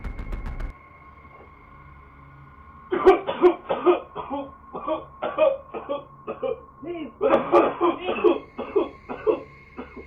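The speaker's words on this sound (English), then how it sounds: "starts coughing uncontrollably like he's choking" A man coughs uncontrollably as if choking, a rapid run of harsh, loud coughs in two bursts after a quiet start, close to the listener and with barely a pause for breath.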